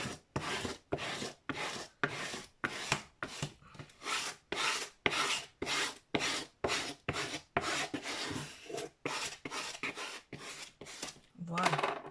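Paper being pressed and smoothed flat onto an album cover by hand, a steady series of rhythmic rasping rubbing strokes, close and fairly loud, with no talking over them.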